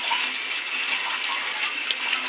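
Rainwater runs outside a house during a heavy downpour, a steady broadband rush of flowing water at moderate level, continuous for the whole stretch with no voices.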